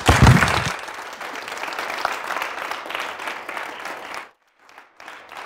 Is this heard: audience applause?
yes